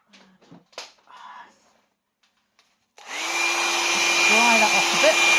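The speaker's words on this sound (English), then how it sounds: "I am going to get my hairdryer" A hair dryer drying a clay pottery dachshund planter: after some quiet handling clicks and light rustles, it switches on with a sudden loud, steady blowing whine that holds to the end.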